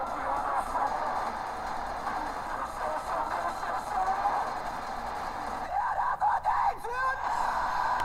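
Harsh screamed vocals in a metal song build over dense, loud distorted guitars and drums, with a reviewer's voice reacting briefly near the end.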